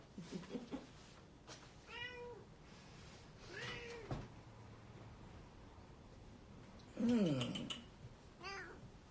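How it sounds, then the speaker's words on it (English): A part-Siamese cat meows several times over a few seconds, short chirpy calls then a louder, longer yowl near the end, heard quietly indoors with some faint background voices. "It's a talking cat because it's part Siamese."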